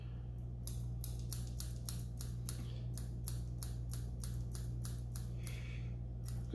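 Scissors snip repeatedly at fly-tying material on a Mahi (dolphin) saltwater fly, about twenty crisp, close cuts in an even rhythm over a steady low hum.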